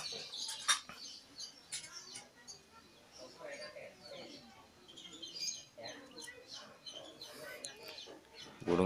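Kingfisher (tengkek udang) chicks, about a month old, chirping and squeaking faintly while being hand-fed, with a person talking throughout.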